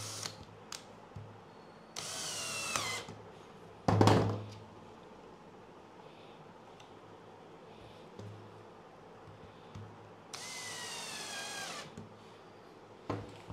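Power drill driving screws into wood while fitting concealed door hinges, in several short high whirring bursts separated by pauses, with a sharp knock or clatter between the first bursts, close and fairly loud.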